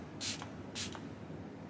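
Dewy makeup setting spray is misted onto a face in two quick, close hissing pumps, each a short airy burst, with a quiet room in between.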